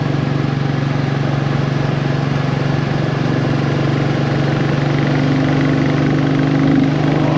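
Royal Enfield Bullet 350 motorcycle engine running at a steady, even throttle on a sunny ride, a loud continuous thump-laden drone with no break and no voices.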